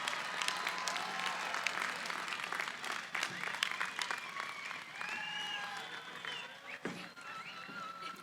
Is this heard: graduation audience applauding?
yes